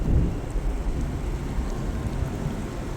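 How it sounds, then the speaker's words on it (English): Steady rain pours down, a dense, even hiss of water with heavy low rumble underneath, continuous throughout with no voices. "We get to wait in the rain again."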